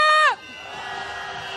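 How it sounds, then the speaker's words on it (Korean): A short raised shout breaks off into a diffuse roar of a crowd cheering and shouting at a candlelight protest march in South Korea, sustained and moderately distant. "함성 한번 질러보겠습니다. 함성 시작!"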